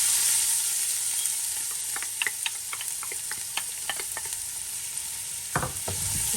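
Onions fry in oil for a Moroccan chicken dish with olives, giving a steady close sizzle and hiss, while a spoon scrapes and stirs through them in scattered strokes.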